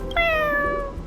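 A cat meows once in a long, drawn-out, slightly falling cry, close and clear, heard in a horror video game with a low background hum.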